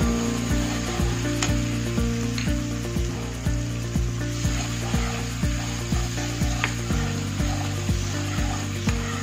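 Poppy seeds frying in a pan sizzle steadily while a spoon scrapes and stirs in a regular rhythmic pattern, close and clear, with no talking.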